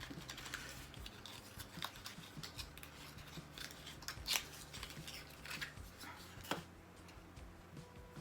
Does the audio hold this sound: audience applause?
no